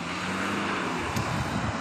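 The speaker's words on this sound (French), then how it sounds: "Je suis désolé pour le bruit des voitures" Road traffic noise from passing cars on a Sunday, a continuous broadband rumble with a car swelling by, fairly close and loud with no voice over it.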